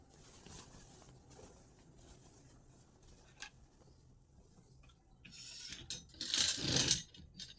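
Small metallic clicks, taps and rattles come from an embroidery frame being fitted onto the screws of an Aari embroidery stand, sparse and close, ending in a louder burst of clattering handling.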